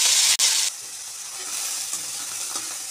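Washed water snails frying in hot oil in a wok give off a steady, close sizzle and hiss that stays even throughout, with brief stirring scrapes and no voices.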